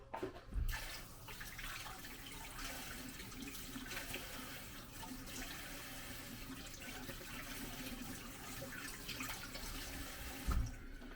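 Small potatoes being rinsed under a running kitchen tap, a steady broadband splash of water pouring into a sink that holds for about ten seconds, fairly close, with a couple of bumps as the potatoes are handled.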